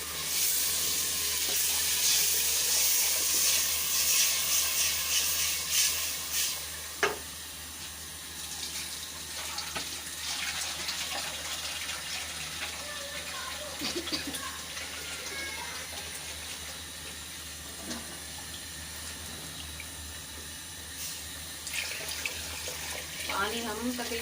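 Water poured from a tap or jug into a large pot of kadhi pakora, a steady broadband rush of filling liquid that eases after a few seconds with faint kitchen clatter, no talk over it.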